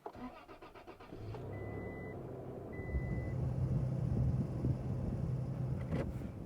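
A pickup truck engine starts and idles to warm up at a cold Lake Tahoe camp, a steady close rumble that swells after a second and holds, with faint beeps and clicks on top.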